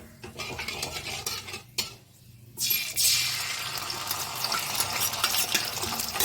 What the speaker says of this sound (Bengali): মশলাগুলো এবার দেবো। প্রথমে দেবো আদা, এই যে আদা দিয়ে দিচ্ছি।